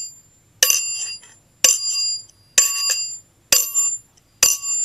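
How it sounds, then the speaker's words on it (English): A bright electronic elevator floor-passing chime dings five times at a steady, evenly spaced rhythm, each ring decaying briefly before the next, clear and close with no talk. "It's supposed to be a floor passing chime"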